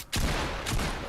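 A single sharp assault rifle shot rings out in Fortnite, landing a headshot, followed close behind by a second crack, both loud and close with a brief ringing tail.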